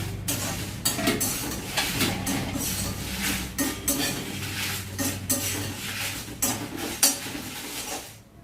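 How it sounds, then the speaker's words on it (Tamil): Dry chillies and curry leaves roasting in a dry pan for homemade sambar powder, with a steady scraping and clinking of a spoon against metal and soft rustling of the dry ingredients, close and continuous. "மிளகாயும் கருவேப்பிலையும் மட்டும் இதோட சேர்த்து வறுத்துக்கிறேன்"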